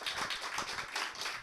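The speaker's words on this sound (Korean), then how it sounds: "박수 제대로 한번 쳐보십시오" A church congregation claps together after a prayer at a mission service, a dense, steady patter of many hands filling the room without any voices.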